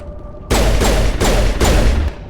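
Four rapid heavy gunshots from a weapon in Mass Effect 1 Legendary Edition, evenly spaced and loud, each with a booming low thump and ringing tail, then cutting off.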